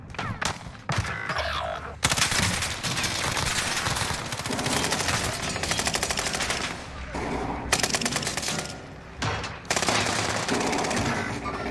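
Rapid bursts of video game gunfire, machine-gun rattles and fusillades, fill the scene nearly continuously, loud and close with brief pauses between volleys.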